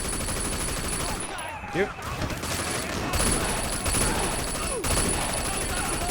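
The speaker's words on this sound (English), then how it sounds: "I will be using this pillar here to avoid being shot by shotgun guys, which is not going well right now." Repeated gunfire in Sleeping Dogs as enemy shotgunners shoot at a player sheltering behind a pillar, sharp reports recurring over busy game sound, with a brief spoken line.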